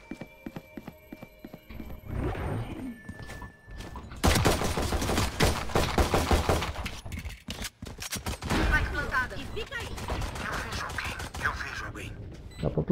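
Bursts of rapid gunfire in the video game Valorant crackle in dense volleys, broken by quieter stretches with a few isolated clicks and tones.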